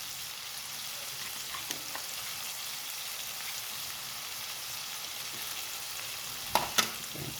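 Tomato paste fries in a pan as part of a fish paksiw dish, with a steady, dense sizzle that runs throughout, close up, plus a couple of brief clinks near the end and no speech.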